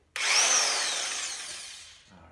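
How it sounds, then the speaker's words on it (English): A Porter-Cable PCC740B cordless 1/2-inch hog ring impact wrench spins up once, loud and close, a steady whirring drive that holds for about two seconds before winding down, with no talk. "I recently picked up this Porter cable 1/2-inch hog ring impact wrench"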